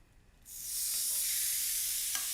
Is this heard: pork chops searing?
yes